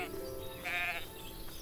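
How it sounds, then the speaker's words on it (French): Sheep in the farming game Everdream Valley give a single clear, mid-pitched bleat partway through, standing alone over a faint steady background hum. "Les moutons maintenant."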